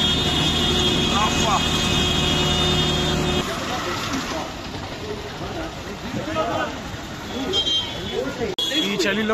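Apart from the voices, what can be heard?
auto rickshaw driving fast through traffic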